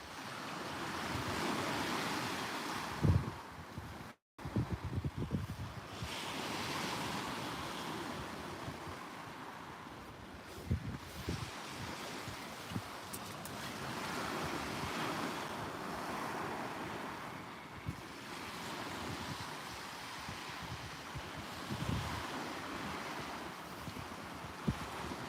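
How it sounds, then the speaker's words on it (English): Wind blows strongly at the seashore during fishing for undulate rays in West Sussex, a constant roar of gusts buffeting the microphone over the surf, with a few brief knocks and no talk. "Wind's definitely a little bit more than what it said it was, I think."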